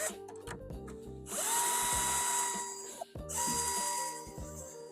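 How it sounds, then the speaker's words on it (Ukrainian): A cordless screwdriver unscrewing nuts from a water vending machine, whirring in two loud bursts of about two seconds each, with clicks and handling noises before and between them. "Для того нам потрібен шуруповерт або викрутка. В даному випадку ми використовуємо шуруповерт. Пробуємо знімати."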